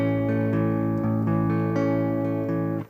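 Two strummed acoustic guitar chords in the E shape, a major chord followed by a seventh chord, ring out sustained and close with no talking, fading at the end.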